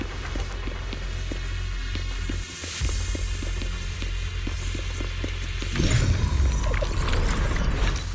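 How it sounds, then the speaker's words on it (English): Machinery in a video game: a steady low mechanical hum with a faint rhythmic throbbing pulse, growing denser and louder toward the end, with no voices. "That's the sound of machinery."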